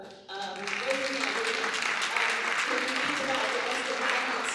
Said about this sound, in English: you can clap her up